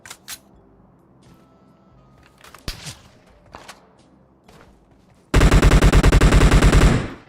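A loud, rapid burst of automatic gunfire from PUBG Mobile erupts suddenly and runs for about two seconds near the end, after a quieter stretch of scattered clicks and small game noises.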